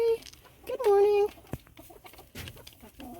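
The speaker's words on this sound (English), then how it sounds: "there's our other rooster. Tornado." Silkie chickens cluck and a rooster calls in short bursts nearby in winter, with brief bits of talking in between.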